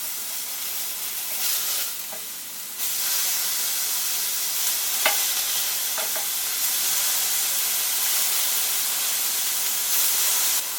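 Burgers sear on a Delonghi Perfecto indoor grill with a loud, continuous sizzle and hiss. A few faint clinks come through partway in.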